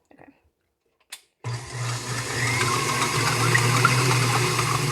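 An electric mixer beating egg whites on high speed for a cake, starting after a couple of clicks with a steady, loud whirring drone and a strong low motor hum that holds constant.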